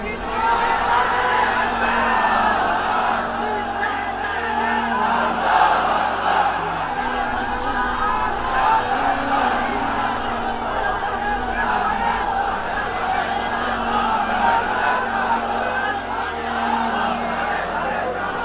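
A large crowd at an Islamic sermon gathering chants takbir together, a loud, massed roar of voices rising and falling in waves over several seconds.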